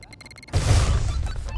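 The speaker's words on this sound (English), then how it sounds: "So that's a really big explosion." A big explosion in a video game bursts suddenly after a brief quiet stretch of ticking tones, then a loud, rumbling blast with a sustained low roar that fades slightly over the final second.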